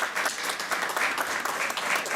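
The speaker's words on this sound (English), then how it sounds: "let's go ahead and give these folks a big thank you and a round of applause" Applause at a high school commencement ceremony honoring teachers and counselors, steady dense clapping from a large crowd filling the whole stretch, loud and continuous without talk.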